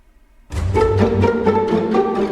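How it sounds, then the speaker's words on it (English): A cello enters after a brief silence, playing a deep, sustained, resonant bowed passage of several notes. "That sounds is produced by a cello."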